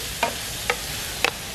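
Chilli and garlic prawns in a fry pan sizzle steadily, with three short scraping stirs or taps breaking through the hiss at close range.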